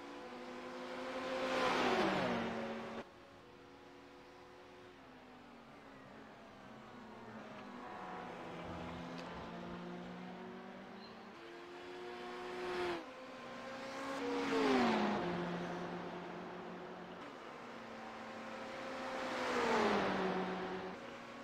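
Ferrari and BMW race cars in iRacing at Watkins Glen scream past one after another. Engines rise and fall through gear changes and pass-bys, with no talk over them.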